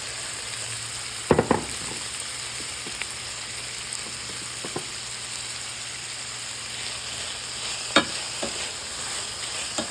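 Two cups of corn frying with salt in a hot pan: a steady, close sizzle throughout, broken by a few brief scraping stirs, with no talking.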